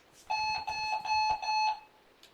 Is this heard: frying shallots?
no